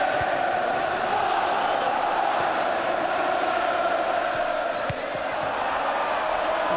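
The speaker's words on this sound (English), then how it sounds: "when it's full like this and the crowd are in the mood as they are at the moment, the noise is deafening" A packed football stadium crowd roars continuously during a Premiership match between Bolton Wanderers and Arsenal, a dense, loud wash of voices with occasional shouts rising out of it.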